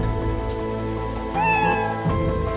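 A cat meows once in the video game Skul: The Hero Slayer, a short rising-and-falling cry, over a steady background hum; no talking.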